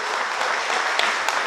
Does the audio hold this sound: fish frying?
no